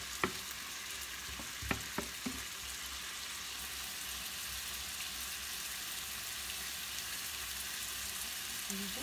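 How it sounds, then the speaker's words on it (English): Pasta with calamari and artichokes being stirred in a hot pan: a continuous quiet sizzle with a few sharp utensil clicks early on, fairly soft throughout. "And we stir the pasta."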